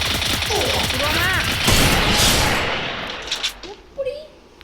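Rapid bursts of gunfire in a shooting video game with a scope, loud and dense through most of the clip, mixed with voices and other game sounds before fading to sparser hits.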